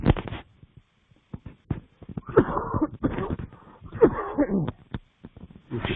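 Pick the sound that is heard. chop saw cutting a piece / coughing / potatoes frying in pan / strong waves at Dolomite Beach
coughing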